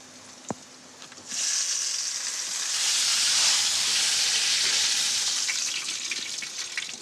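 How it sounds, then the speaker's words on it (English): Meat dropped into a hot pan on the stove erupts into a loud, steady sizzle after a brief quiet moment and a small click, then the hiss swells and holds, crackling continuously to the end. "seal the meat, so I'm just going to drop it in now"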